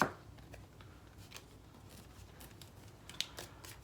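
Playing cards from an encounter deck are handled and shuffled, giving soft, scattered papery ticks and riffles across a few seconds, faint and close, with no voices.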